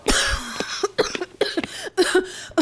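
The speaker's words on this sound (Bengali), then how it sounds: "কাশিটা কিছুতেই কমছে না।" An elderly queen's persistent, illness-racked cough comes as a series of several harsh, close bursts in uneven rhythm, with short pauses between them, heard alone without talk.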